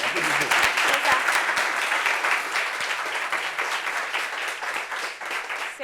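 A meeting audience applauds a speaker, dense steady clapping from a roomful of people that carries evenly throughout, close and fairly loud.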